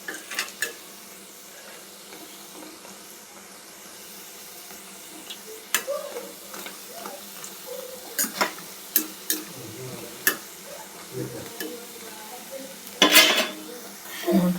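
Mysore bonda frying in hot oil gives a soft steady sizzle, with intermittent clinks and scrapes of a utensil against the pan.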